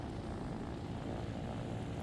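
In Trailmakers, a homemade helicopter stays airborne, giving off a continuous heavy rotor-and-engine rumble, loud and close, with no change over the short stretch.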